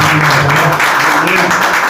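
A church congregation applauds during a worship service, with a steady wash of clapping that runs under voices and a held vocal tone throughout.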